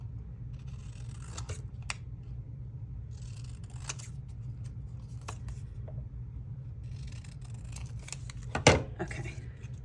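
Scissors snip apart small paper pieces, several separate cuts spaced over a few seconds against a quiet room, with one sharper, louder snip near the end.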